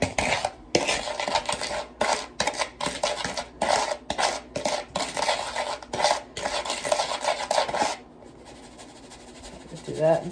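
A spoon scrapes and clinks against a dish while ingredients are mixed, making repeated close rattling strokes in uneven bursts, with a voice speaking between them before the stirring stops.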